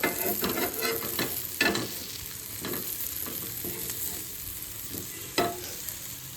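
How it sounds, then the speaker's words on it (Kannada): Pineapple pieces pan-fry to a roast, giving a continuous sizzle with sharp spatula clicks and scrapes against the pan, close and fairly loud, with no talking. "ಅದನ್ನು ಫ್ರೈ ಮಾಡ್ತಾ ಇದ್ದೀನಿ, ಪ್ಯಾನ್ ಫ್ರೈ"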